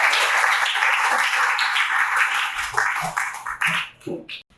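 Classroom of students applauding during a problem-based learning lesson, a brisk burst of clapping close by that fades into a few last scattered claps.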